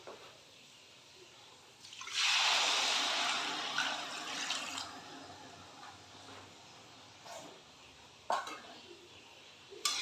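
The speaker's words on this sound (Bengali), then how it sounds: "যেহেতু 2 কাপ চাল ছিল, তাই আমি 4 কাপ জল দিচ্ছি। জলটা একটু উষ্ণ গরম করে নিয়েছি।" Warm water poured into a pot of fried rice for pilaf, a rushing, hissing pour that starts abruptly, runs for about three seconds and tapers off, followed by quiet clinks and small kitchen sounds.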